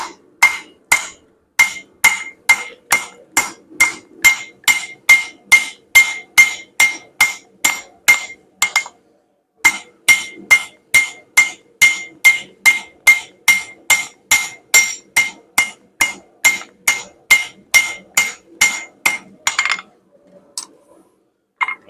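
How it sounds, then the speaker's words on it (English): Hammer blows on hot steel drawing out the ends of a forged tomahawk, a long run of sharp metallic ringing strikes at an even, steady rhythm, with one brief pause, close and loud. "try to draw out the ends, flatten out a little bit so it's easier to weld them together"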